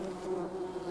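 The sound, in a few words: bees buzzing at beehives, from a video game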